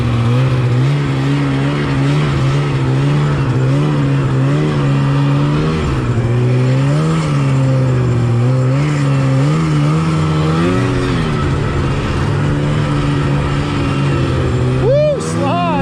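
A 1986 Yamaha Phazer 480 snowmobile engine roars loud and close from on board, its pitch rising and falling steadily as the rider works the throttle, with a rider's voice briefly heard near the end.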